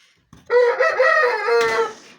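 Young chickens on a backyard flock give one loud, drawn-out call close by, rising then holding for over a second with no voices present.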